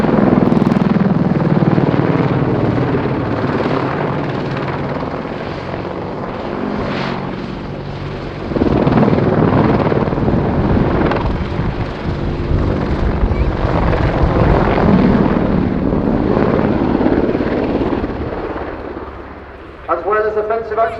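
A British Army AgustaWestland Apache attack helicopter performs a bunt manoeuvre at the RIAT 2019 air show, its loud rotor and engine roar swelling and fading as it passes, with commentary talking over it.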